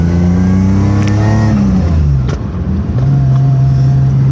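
A BMW E30 fitted with an M30B35 straight-six engine pulls hard through the gears, its loud, close engine note climbing in pitch, dropping at a shift, then rising again.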